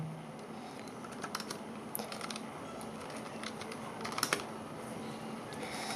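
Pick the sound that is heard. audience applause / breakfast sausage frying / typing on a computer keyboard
typing on a computer keyboard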